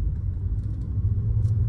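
A Hyundai Creta N-Line SUV engine revving as the car accelerates, a steady loud low rumble throughout with no talking.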